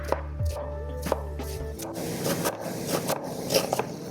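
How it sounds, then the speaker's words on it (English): A knife chops an onion into small pieces on a board, a quick series of sharp, close taps and scrapes following a low hum, with no talking. "I try to cut this onion as small as I can"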